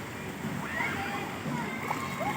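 Water splashing and sloshing as people dip into a hot spring, a continuous watery wash under lively voices talking and calling out nearby.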